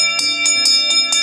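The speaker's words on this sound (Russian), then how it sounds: "И поэтому все колокольчики звонили по-разному." An old postal coach bell from a Russian postal route rings repeatedly, five bright rhythmic jingles with a sustained metallic tone, loud and close with no talk.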